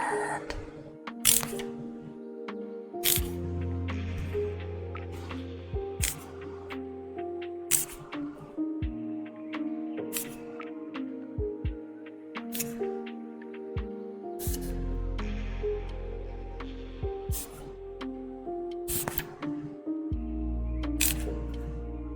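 A hand spray bottle mists the mossy cool side of a skink enclosure in short, sharp bursts, scattered with pauses between them, close and fairly quiet, with soft handling noises in between.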